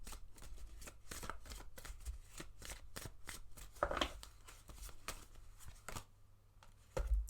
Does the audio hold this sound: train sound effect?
no